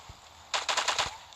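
A quick burst of sniper gunfire in the video game LifeAfter: several sharp rapid reports packed into about half a second, loud and close, with no talking.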